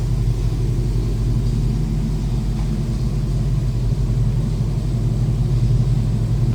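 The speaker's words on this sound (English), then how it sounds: "Slip around to the back so you can hear it with the low idle." A 1951 Studebaker Champion two-door street rod idles low, heard from behind the car as a steady deep rumble with an even exhaust burble, continuous and fairly loud throughout.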